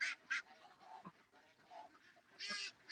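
Ducks quack in short, nasal bursts, a few calls scattered across a quiet background, faint and somewhat distant, with a louder pair of honks near the start and another near the end.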